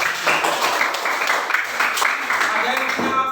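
A primary school class gives a round of applause, many hands clapping together steadily for a few seconds, loud and close, with a teacher's voice speaking over it.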